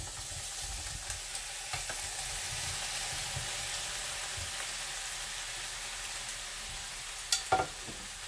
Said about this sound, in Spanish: Le vamos a agregar un poquito de aceite nada más para sofreírlo